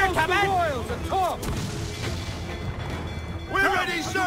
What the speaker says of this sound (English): Ready to fire! Cannon ready!